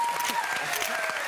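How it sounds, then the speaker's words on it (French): Studio audience applause on a French television talk show, a brief steady wash of clapping under a host's voice, moderately distant. "Applaudissez."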